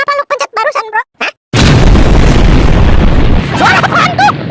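A cartoon dynamite explosion in an animated comedy about cockroaches: a sudden loud boom that bursts in after a few short squeaky cartoon voice sounds and rumbles on, with a voice returning faintly near the end.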